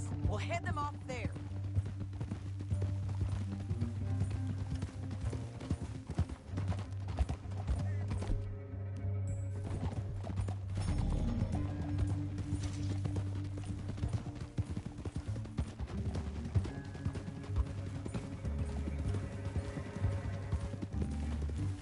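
Horse hooves clip-clop steadily on the ground in Red Dead Redemption 2, a continuous rhythmic trotting mixed under a low rumbling game score and ambient sound, with brief snorts and voices talking over it.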